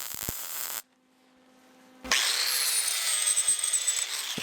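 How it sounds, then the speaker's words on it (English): A drill press enlarges the hole of a 1/2 inch nut, grinding through metal loudly and steadily after a brief quiet pause, the harsh high whine continuing to the end. "Followed by oversizing the hole from a 1/2 inch nut using a press drill."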